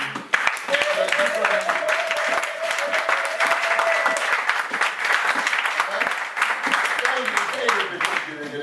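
A church congregation at a Sunday worship service breaks into sustained loud applause and clapping, dense and continuous across the hall, with voices and cheering mixed into the crowd noise.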